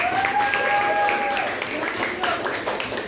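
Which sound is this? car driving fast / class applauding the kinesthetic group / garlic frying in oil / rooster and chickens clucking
class applauding the kinesthetic group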